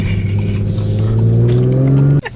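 A 2022 Audi S5 Sportback launches hard under launch control, its engine note climbing steadily in a loud, close, continuous rising roar for about two seconds before cutting off abruptly.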